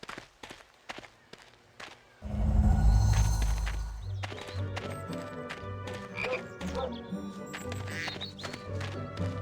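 A chocolate frog croaks in a Harry Potter video game amid busy game sounds, with scattered clicks and steps leading into a denser, louder stretch of croaking and scurrying effects.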